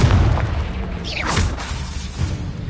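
Confringo spell blast in the game Hogwarts Legacy, a single booming explosion with a swooshing burst in the middle, loud and close over rumbling game background.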